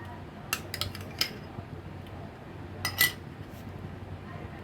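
Makhana burfi ingredients with sugar and ghee being stirred in a bowl: faint, scattered spoon clinks and scrapes against the dish over a low, quiet background.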